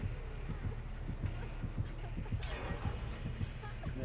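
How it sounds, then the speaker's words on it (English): A low, steady heartbeat thumps through the Dead by Daylight killer's terror radius, repeating about twice a second under a constant hum of game ambience. "I was probably the first one who heard the heartbeat"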